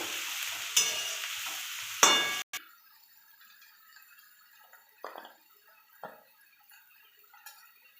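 Chow mein and vegetables stirred in a pan: a couple of brief sizzling bursts early on, then quieter scattered scraping and clinking as the noodles are tossed, close by with no talking.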